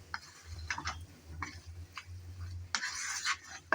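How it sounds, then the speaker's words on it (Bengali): A spoon scrapes and taps against a pan while broiler chicken curry is stirred and fried down, with intermittent clinks and soft scraping over a low background hum, fairly quiet and close. "আবারও আসলাম একটু নেড়ে চেড়ে ভালোভাবে কষিয়ে নেব বলে।"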